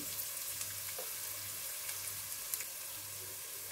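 Chopped onion frying in oil in a pan for a bean-seed and prawn bhuna, giving a steady, fairly quiet sizzle with a few light stirring clicks and no talking.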